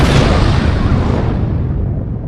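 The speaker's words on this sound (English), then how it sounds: "You see that explosion? That was made with green screen editing on iMovie" An explosion effect, added with green screen editing in iMovie, hits loud and close as a deep, broad rumbling blast that slowly fades over two seconds, with no talking.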